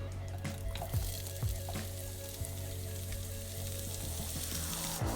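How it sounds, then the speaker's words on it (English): Carrots fry in olive oil in a pan, a steady close sizzle with occasional clicks and scrapes from stirring, no talking. "We're gonna heat up some olive oil in a pan. And we're gonna cook up our carrots."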